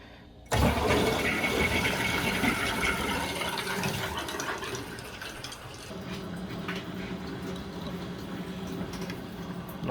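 Water rushes into a tankless water heater as its valves are opened after the filter screen is cleaned, a loud steady hiss and gush that starts abruptly and runs continuously, easing slightly partway through.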